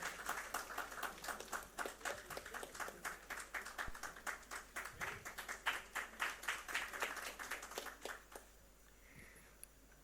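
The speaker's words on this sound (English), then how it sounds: "A huge round of applause once again." An audience at a Gujarat chemicals and petrochemicals conference applauds, rhythmic, fairly faint clapping that fades out near the end into quiet room tone.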